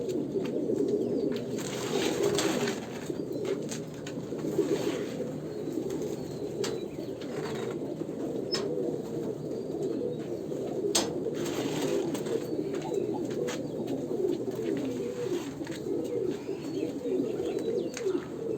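Pigeons coo in a cage, a dense continuous low murmur of overlapping calls with occasional wing flaps and light rattles close by.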